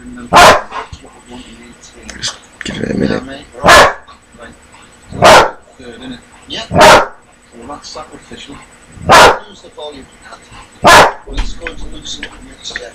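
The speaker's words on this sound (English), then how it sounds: "I'm trying to make a video update and she's barking like mad." A dog barks loudly and sharply about seven times, spaced a second or two apart, while a person talks quietly in between.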